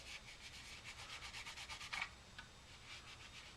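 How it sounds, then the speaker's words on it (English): A clean dry towel buffs red paint on a PS3 controller, a faint rapid series of soft rubbing strokes in a quick back-and-forth rhythm, close and quiet, with no voices. "Got my nice clean dry towel. And I'm just buffing the red."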